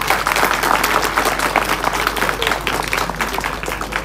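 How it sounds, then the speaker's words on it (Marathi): An audience at a Shiv Jayanti village gathering bursts into loud, sustained applause honoring girls who performed, steady clapping filling the whole stretch with no break. "त्या सगळ्यांचं एकदा जोरदार टाळ्या करून त्यांचं हे करायचं"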